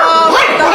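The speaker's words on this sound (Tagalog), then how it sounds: "Nakakatakot naman yung mga tahol na aso." Dogs bark and yelp continuously at close range, a loud, dense burst of overlapping barks with no pause.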